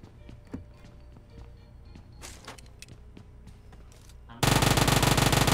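Quiet in-game footsteps and small clicks in PUBG give way to a loud, rapid burst of automatic gunfire that fills the last second of the clip.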